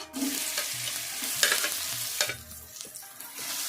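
Three medium onions, finely chopped, go into hot oil for beef pulao, giving a soft sizzle under repeated scraping stir strokes and a few sharper clinks, with no talking.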